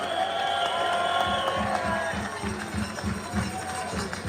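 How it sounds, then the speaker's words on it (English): An outdoor labor rally crowd in Union Square cheers and applauds, with high whoops and whistles over a rhythmic, pulsing beat of clapping or chanting that carries on steadily. "Give them a round of applause."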